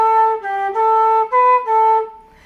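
The same short five-note traditional tune phrase is repeated on a flute, clear and close, with each note held and the last one fading out.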